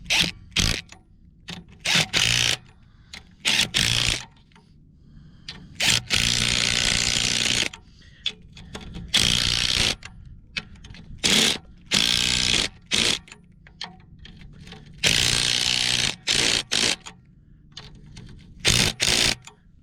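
Power ratchet tightening fan clutch bolts on a 454 big block Chevrolet engine in a Class A motorhome, loud bursts of rapid whirring clicks repeated in short spurts with quiet pauses between, close up.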